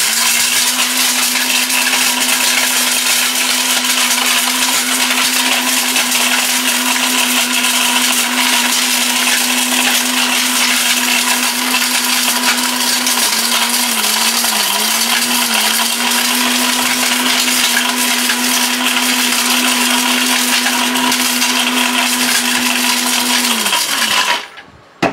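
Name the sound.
powerful steel-bush blender running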